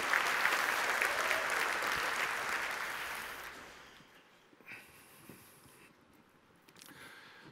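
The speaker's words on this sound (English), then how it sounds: "Please give a huge round of applause to everyone for making this conference happen." Conference audience applauding at the opening keynote of the 6th Clio Cloud Conference, a dense burst of clapping that fades out after a few seconds, leaving quiet room noise with a few faint sounds.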